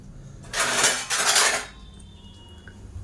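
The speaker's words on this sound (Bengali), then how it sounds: "ভাতটা ঢেকে দিই একটু" A metal lid clatters onto a pot of cooked rice, a single bright ringing clank lasting about a second, close and clear against a quiet kitchen.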